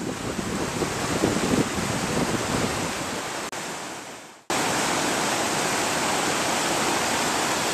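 A raging, flooded river roars in a steady, loud broadband rush over buried bedrock, with gusty wind buffeting the microphone; the roar briefly dips and cuts out near the middle before returning at full strength.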